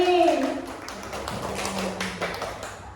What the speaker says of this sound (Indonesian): Tepuk tangan untuk Bu Wali